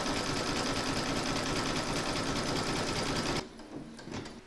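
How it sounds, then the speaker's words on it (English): An embroidery sewing machine does decorative and satin stitching with a fast, steady mechanical whir and needle chatter that runs evenly, then cuts off abruptly, leaving a faint quieter hum. "it's going to do the decorative stitching and the satin stitch around the border"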